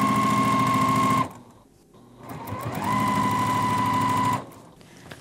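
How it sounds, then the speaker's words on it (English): Sewing machine stitching strips of fabric together for quilt binding, a loud close whirring buzz in two bursts separated by a brief pause. "So let's go over to the sewing machine."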